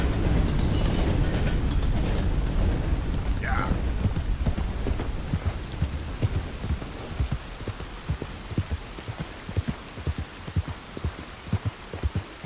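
Horse hooves clip-clop in a steady rhythmic trot in Red Dead Redemption 2, growing more distinct after a rushing, windy start, loud and close.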